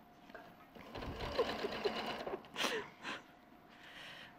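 A sewing machine stitches fabric in short bursts of quiet mechanical whirring and needle clatter, stopping and starting over a few seconds, with a soft breath or two nearby.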